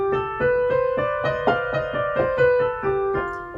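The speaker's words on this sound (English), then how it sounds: "This is sometimes known as the overtone scale" Keyboard playing a run of the overtone scale, a string of clear sustained notes moving step by step with a steady rhythm, bright and close with no voices.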